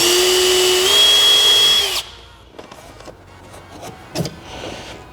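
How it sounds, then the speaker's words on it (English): A power drill with a 5/32 bit whirs in one steady, close burst of about two seconds, drilling holes for a Toyota Supra front splitter endplate, then cuts out, leaving faint clicks and handling noises. "Drill them from the bottom up, just like so."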